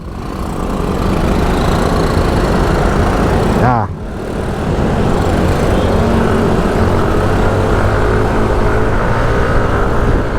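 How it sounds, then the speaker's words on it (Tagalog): Motorcycle engine with new 11-gram rollers fitted, running loud and close with a steady drone that dips briefly and then climbs again as it revs, while someone talks over it. "malakas ngayon ang motor natin ngayon. Nagpalit tayo ng bole. 11 grams"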